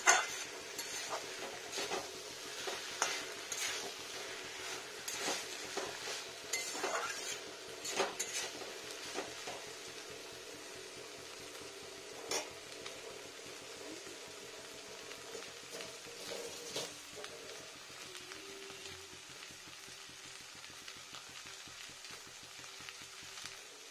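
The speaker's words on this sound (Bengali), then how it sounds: "ধনে পাতাটা মিশিয়ে দিই ভালো করে" Coriander leaves stirred into a cabbage curry in a pan, a steady soft sizzle with repeated spoon scrapes and light clinks against the metal, close and continuous, slowly easing off toward the end.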